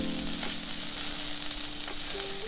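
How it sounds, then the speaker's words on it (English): Ground spices fry and sizzle in a pan over medium heat for shakshouka, a steady close crackle with soft stirring scrapes and no voices. "Turn the heat to medium and mix the spices well."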